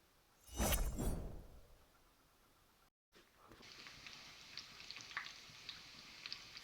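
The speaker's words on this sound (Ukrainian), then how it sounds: "Смажиться засмажка." Sizzling and crackling from a frying pan of roux for bean soup, a steady hiss with small pops, starting after a brief louder burst and some movement.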